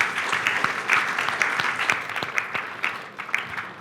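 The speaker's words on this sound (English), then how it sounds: "Give yourself a round of applause." An audience of students at a lecture claps in a steady round of applause, many hands close and lively, continuous throughout with faint voices beneath.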